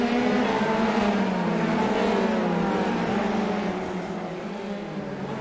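F3 race car engines during a sim race at Long Beach, cars running side by side with a steady, loud high-revving drone that eases slightly toward the end.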